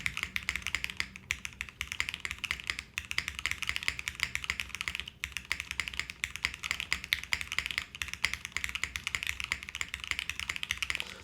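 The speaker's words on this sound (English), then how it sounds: "I want to keep typing a little bit more on it." Rapid, continuous clacking of keys on a Fukuro mechanical keyboard with Yukihana switches, close and crisp, with an uneven typing rhythm and no voices.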